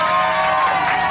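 Crowd aboard the Triton yacht off San Andrés island applauding and cheering, a dense steady wash of clapping and voices filling the whole moment at close range.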